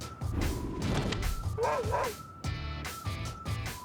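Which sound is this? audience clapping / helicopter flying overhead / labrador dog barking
labrador dog barking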